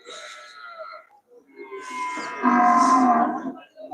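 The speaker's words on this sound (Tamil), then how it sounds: "இதெல்லாம் பஃபலோஸ்" Water buffaloes at a cattle market moo in two drawn-out calls, the second louder and fuller, close by against a quiet background.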